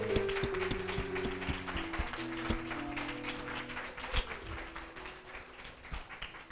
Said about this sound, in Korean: 세 명의 고3 친구들을 위해서 우리 격려의 박수 한번 부탁드립니다